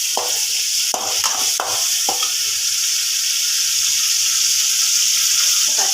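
Tomatoes and onions sautéing in a hot pan for fish curry, a loud, constant sizzle with several sharp spoon scrapes and stirring knocks near the start and end.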